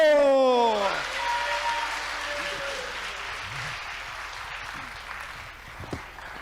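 Church congregation applauding at a Korean revival service, a broad wash of clapping that rises fast near the start and then holds steady under a speaking voice.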